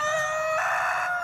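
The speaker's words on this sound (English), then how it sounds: "I think we need to get rid of some roosters. They're loud." A rooster crows in a chicken coop, one sustained, loud, close call holding steady for over a second with no talk.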